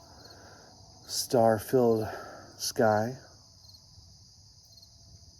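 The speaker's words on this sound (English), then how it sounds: "The crickets are chirping." Crickets chirp outdoors on a mild night, a steady high-pitched trill running throughout, with someone speaking briefly over it.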